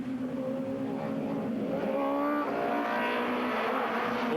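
1996 Supertourisme race cars, a Peugeot 405 among them, roar off the start at Lédenon, the rising engine whine swelling and shifting pitch as the pack accelerates away, loud and steady throughout.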